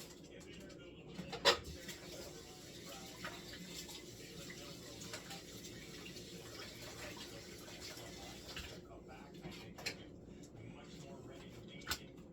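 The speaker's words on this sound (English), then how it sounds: "I rinse my onions off." Tap water runs steadily over onions being rinsed in a kitchen sink, a continuous close rushing hiss lasting throughout with a few small clunks and knocks from handling.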